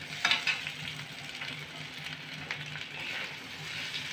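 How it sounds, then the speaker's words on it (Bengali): Small chopped potatoes fry in cooked-down spice masala, giving a loud close sizzle that swells and settles while being stirred, with no voices. "আলুগুলো ঢেলে দেবো।"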